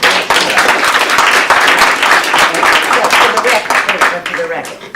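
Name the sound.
audience applause at community healthcare discussion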